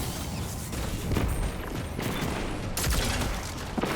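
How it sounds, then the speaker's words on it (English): Grenade explosion in Destiny 2 within a Legend Lost Sector, a boomy burst with a rumbling tail set amid steady gunfire and battle noise, with a louder blast near the end. "I'm going to try to throw my grenade on it"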